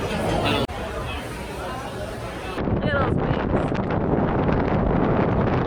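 Strong wind buffets the microphone in a steady roar at a Miami beach, with muffled voices chattering underneath throughout.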